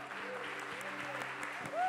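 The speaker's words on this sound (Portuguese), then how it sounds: "Uma salva de palmas para vocês." A church congregation applauds quietly, a soft steady patter of clapping heard over a low sustained musical hum, with a voice rising briefly at the end.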